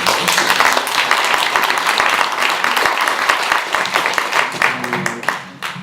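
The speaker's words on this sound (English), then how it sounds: "Bart Rutte deserves a round of applause" Sustained audience applause at a panel discussion in a museum, a dense wash of clapping with distinct sharp claps near the front and voices murmuring underneath before it tapers off.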